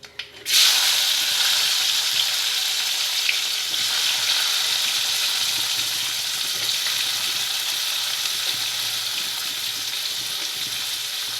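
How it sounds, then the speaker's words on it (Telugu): Tomatoes sizzle and fry in a hot pan for coriander-mint chutney, a steady broadband crackle that starts abruptly and holds fairly loud and close throughout, with no talking. "బాగా పచ్చివాసన పోయినంత వరకు మనం దీన్ని ఫ్రై చేద్దామండి టమాటాలని"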